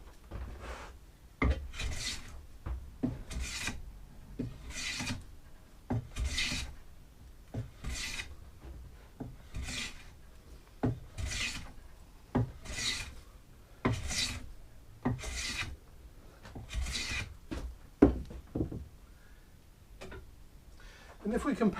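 A roughly hundred-year-old wooden block plane shaves wood in a steady series of about a dozen short rasping strokes, evenly spaced and close.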